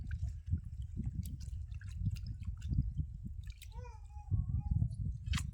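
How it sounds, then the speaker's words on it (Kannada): Mutton pieces are washed in water using two baskets, with intermittent splashing and dripping close by and a low rumble underneath; a few brief bird-like whistles appear midway. "ತೊಳೆದು ಮಟನ್ ನೀರು ಹಾಕೊಂತೀನಿ"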